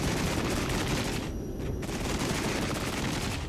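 Heavy artillery and cluster bombers strike in the war game Regiments, a dense, continuous crackle of rapid explosions and gunfire-like bursts with a brief lull in the middle, moderately loud, with no voices.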